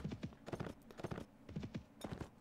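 Horse hooves clip-clopping in the Mount and Blade: A Clash of Kings video game, a quiet, quick, rhythmic patter of hoofbeats that keeps a steady gait throughout.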